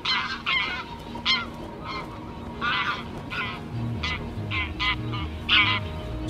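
A young goose honks with its flock: loud, close, nasal honks repeat in an uneven stream, with other geese calling around it and no talk.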